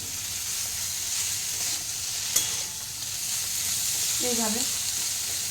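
Ginger frying lightly in a pan with panch phoron and bay leaf, a loud, dense, steady sizzle with a brief clink partway through, and a few spoken words near the end.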